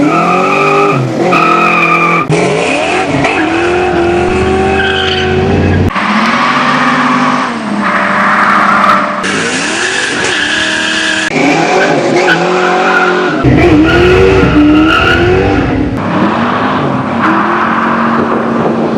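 A Fox body Mustang skids with loud, sustained tire squeal, the rubber's pitch wavering and sliding over several long screeching passes with engine noise beneath, close and dominant throughout.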